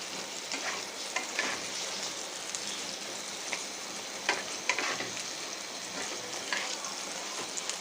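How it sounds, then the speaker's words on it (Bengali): Pointed gourd (potol) frying in a pan over moderate heat, a soft steady sizzle with intermittent stirring scrapes and crackles. "তো আমি এখন পটলগুলোকে খুব ভালো করে ভেজে নেব।"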